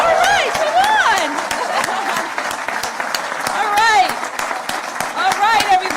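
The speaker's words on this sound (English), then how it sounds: "All right, let's clap." An audience applauds steadily at a Massachusetts government affordable-housing award event, the dense clapping continuous throughout while voices call out and cheer over it.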